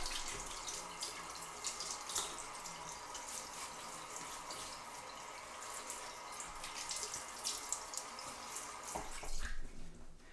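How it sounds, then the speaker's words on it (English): Water runs and splashes at a bathroom sink as a face is rinsed during a wet shave, a steady close hiss of flow with a few louder splashes near the end. "Let me splash some water on the face."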